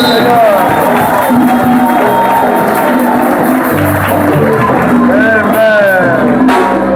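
A crowd at a French-speaking church retreat cheers and applauds in a loud, steady wash of voices and whoops, with speech going on over it.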